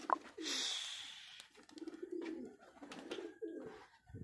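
High flyer pigeons cooing softly nearby, low burbling calls repeated in short bursts with faint rustling, quiet and alone.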